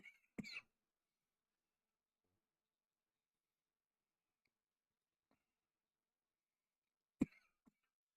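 A man coughs sharply once near the start and again about seven seconds later, short isolated bursts in an otherwise quiet room with a few faint clicks.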